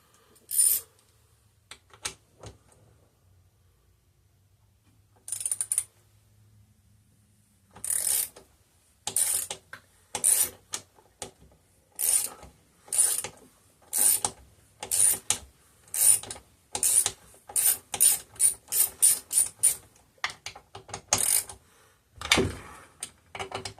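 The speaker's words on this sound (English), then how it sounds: "These ones I'll just use a ratchet for." A ratchet wrench works the bolts loose on a McCulloch 1-52 chainsaw being taken apart for repair, with rapid clicking bursts in quick repeated strokes, close and crisp, after a few sparse clicks and a quiet pause, with no talking.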